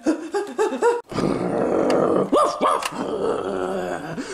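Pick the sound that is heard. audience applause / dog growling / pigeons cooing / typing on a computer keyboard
dog growling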